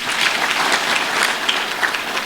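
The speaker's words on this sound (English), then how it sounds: "Please clap for yourselves." A crowd at an education event applauds, a dense continuous patter of many hands, steady and fairly loud over the whole moment.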